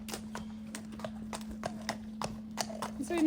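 A horse fresh from a canter steps and crosses over during a physio session, its hooves clip-clopping in an uneven series of sharp, close knocks over a steady low hum.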